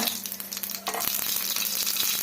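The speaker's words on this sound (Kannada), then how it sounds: "ಒಗ್ಗರಣೆಗೆ ನೋಡಿ ಸ್ವಲ್ಪ ಸಾಸಿವೆ ಸೇರಿಸ್ಕೊಡೋಣ" Mustard seeds and cumin crackle and sizzle sharply in hot oil for tempering, a steady loud frying hiss with small popping bursts, close by and without voices.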